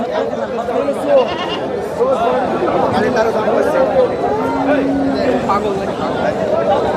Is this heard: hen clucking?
no